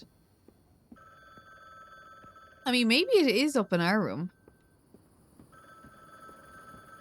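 A telephone in a video game rings in a short burst of repeated electronic trills, fairly loud against a quiet ambient hum, with a person talking before it.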